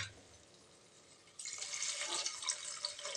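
Running water starts abruptly and pours steadily into a cooking pot of chicken biryani, a bright hissing splash like water streaming from a tap, preceded by a quiet moment.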